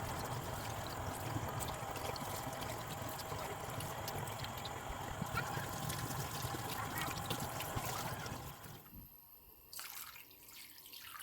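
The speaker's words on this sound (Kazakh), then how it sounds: "Суын құйдым" Water pours steadily into a pot holding washed head and trotters for aspic, a soft continuous splashing stream that stops near the end before a brief quieter clatter.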